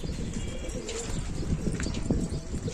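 Pigeons in a loft coo softly close by, with low throaty calls repeating among rustling and wing movement.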